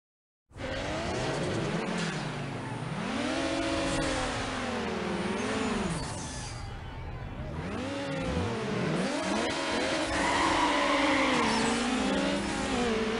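Race cars in Need for Speed Underground rev and whine continuously, engine pitch sweeping up and down through gear changes with occasional skids, loud and close throughout.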